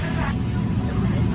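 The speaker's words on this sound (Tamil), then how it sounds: "ஃப்ளைட்டு மூவ் பண்ணி ரன்வேக்கு போக போகுது." An Emirates airliner taxis toward the runway, heard from inside the cabin as a steady low engine rumble and hum, with faint talk at the start.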